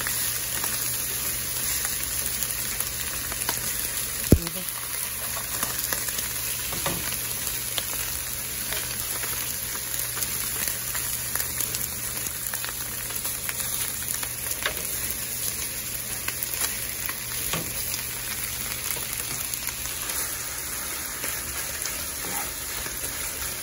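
Chorizo browning in a frying pan, a steady, even sizzle running throughout with a few faint clicks and one brief knock near the start, no one speaking.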